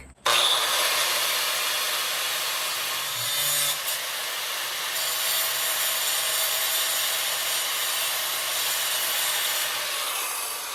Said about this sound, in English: I'm gonna grind it